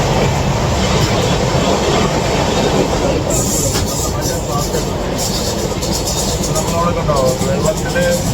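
A passenger train bound for Mumbai rumbles loudly along the rails with constant clattering wheels and occasional faint squeals, heard from on board as a continuous close roar.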